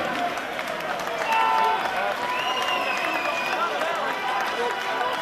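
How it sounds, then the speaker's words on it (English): Crowd at a fight event cheering and applauding for fighter Runar Gundersen, a continuous wash of clapping and shouts with whistles rising briefly, fairly loud and sustained. "And let's cheer for his opponent, Runar Gundersen."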